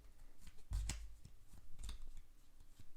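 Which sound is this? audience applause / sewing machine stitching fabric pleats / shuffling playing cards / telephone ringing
shuffling playing cards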